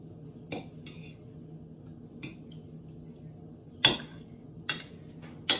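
Eggs for a honeycomb sponge cake are broken apart in a bowl with a utensil, giving quiet sporadic clinks and taps against the bowl over a faint background hum.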